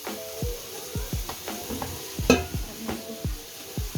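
Bihari kabab skewers sizzling in a pan, a steady oily hiss with a series of sharp knocks and scrapes as they are turned, close and moderately quiet without speech.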